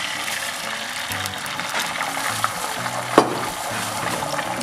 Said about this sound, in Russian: Отправляю в сковороду яйцо.